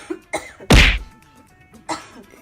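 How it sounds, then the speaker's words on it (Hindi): A woman's single sharp cough bursts out nearby, framed by softer thuds and rustles in an otherwise quiet room. "मम्मी की ना खांसने की आवाज़ आ रही है"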